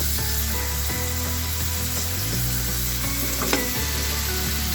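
Slices of boiled pork belly seasoned with salt, pepper and garlic hit a hot pan, giving a steady, loud, close sizzle that runs the whole time with no talking.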